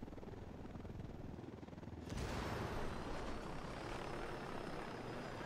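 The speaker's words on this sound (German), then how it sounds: "Der Heli da unten dran ist aber gefährlich nah." Helicopter close by in the video game Ghost Recon Wildlands, a rotor drone that surges louder partway through and stays steady and near, with no talk over it.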